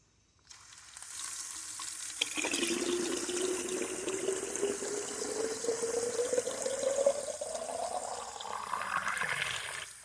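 Steady rushing of water pouring from a well tap into a container, the pitch rising gradually as it fills, continuous and close for the whole stretch.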